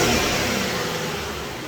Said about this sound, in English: that's a stock turbo car with no blow valves or anything like that